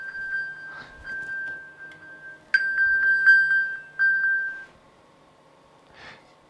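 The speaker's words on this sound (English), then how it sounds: "it's nearby, pinging Chad's iPhone" An iPhone plays its Find My iPhone alert, a run of bright, evenly spaced electronic pings that pause and resume more strongly, heard nearby in a quiet indoor room with no speech.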